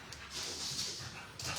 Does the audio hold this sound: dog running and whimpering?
yes